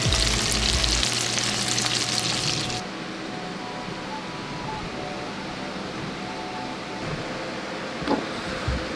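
Cajun-seasoned walleye pieces fry outdoors in hot oil, with a loud crackling sizzle for the first few seconds that then drops to a quieter, steady bubbling hiss with a light knock near the end.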